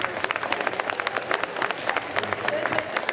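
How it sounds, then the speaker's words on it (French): Applause from an audience at a cosplay conference panel with jury members, during a Japan and manga convention in Mulhouse. Dense, sustained clapping fills the room, loud and continuous, with faint crowd murmur underneath. "je vous propose de faire un tonnerre d'applaudissements pour notre jury cosplay de demain"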